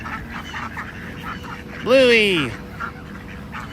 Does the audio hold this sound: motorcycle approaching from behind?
no